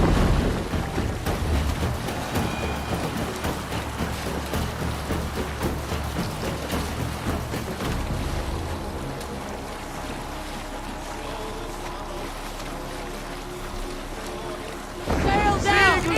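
A sailing ship moving under sail in a video game, with steady wind and rushing water across the whole stretch, lapping waves beneath and a louder burst of noise near the end.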